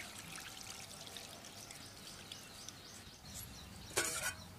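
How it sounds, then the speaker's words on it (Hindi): Rice being washed in water in a village kitchen, a quiet steady trickle and slosh with a brief louder splash near the end, and faint birdsong in the background. "इधर मैं चावल को धोकर साफ कर लेती हूँ।"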